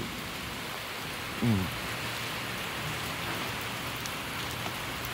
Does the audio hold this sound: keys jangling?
no